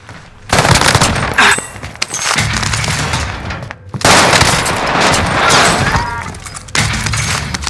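Sustained automatic gunfire from Call of Duty Warzone Rebirth, loud and dense bursts separated by brief pauses, with crackling shots and impacts filling the clip.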